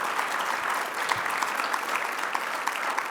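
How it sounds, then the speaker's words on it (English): Audience applause at an ALEC meeting, a continuous even clapping from a sizable room, steady and fairly loud throughout with no talking. "You could give him a round of applause."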